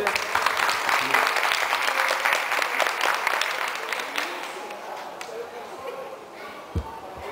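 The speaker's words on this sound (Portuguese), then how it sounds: "Uma salva de palmas, gente." An audience applauds after a debate on comic books and superheroes, moderate clapping that gradually fades and softens, with a few voices mixed in and a brief thump near the end.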